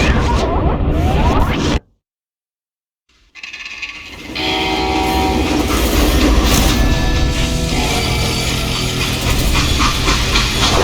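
A freight train moving in the video game Call of Juarez Gunslinger: loud rumbling and clattering wheels, a brief drop to near silence, then the heavy rolling noise returns and carries on steadily.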